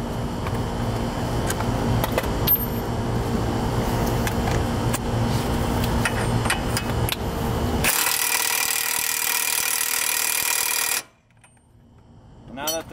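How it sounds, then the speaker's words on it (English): A wrench tightens the driver side axle nut on a 2007-2014 Nissan Altima, making a string of sharp, close clicks and scrapes over a steady background drone, followed by a few seconds of harsh hiss that cuts off abruptly. "we'll go ahead and torque that down."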